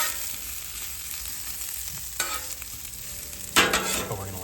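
Leftover tomahawk ribeye steak sizzles steadily in a hot pan, with a couple of sharper bursts as the meat is moved and stirred, close and alone without voices.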